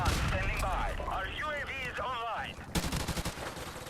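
Rapid gunfire from a match of the video game Modern Warfare (2019), dense bursts running throughout and partly mixed with other game sounds, growing sharper and louder near the end.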